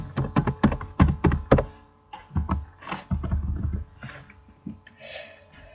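Typing on a computer keyboard: quick bursts of close, crisp keystrokes, densest at the start, then scattered taps and clicks with short pauses.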